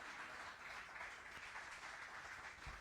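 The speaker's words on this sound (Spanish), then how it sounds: "Fuerte ese aplauso." Steady applause from a church congregation during a sermon, a continuous dense clapping texture filling the space without pause, fairly distant and even in level.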